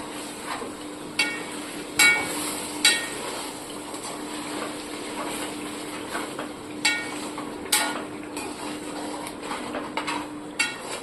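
A spoon stirs paneer, pea and potato curry in a pan, producing irregular metallic clinks and scrapes against the pan every second or so over a soft steady hum, with no talking.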